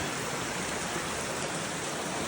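A mountain creek in the Cascades flows steadily nearby, a dense, even rush of water with no breaks and no voices.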